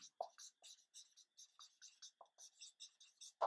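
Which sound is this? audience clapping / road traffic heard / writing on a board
writing on a board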